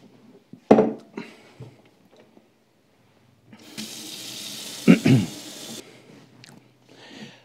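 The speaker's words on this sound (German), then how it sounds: "Meine Hand kann ich jetzt ganz mit Seife und heißem Wasser wieder waschen." A kitchen tap runs with hot water for a couple of seconds as hands are scrubbed with soap, preceded by a few sharp clatters and followed by the flow shutting off.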